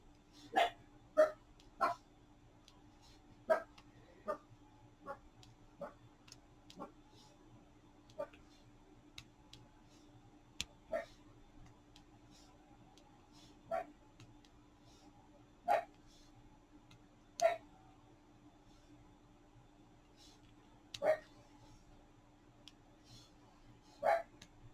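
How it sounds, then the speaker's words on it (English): A dog barks in the background of a quiet indoor room, sharp single yips scattered irregularly at a distance while a low hum fills the space beneath. "my dog keeps barking in the background"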